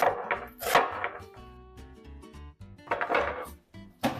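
A knife chops through large onions on a cutting board with quick, uneven knocks and slicing taps, close and fairly quiet, broken by short pauses.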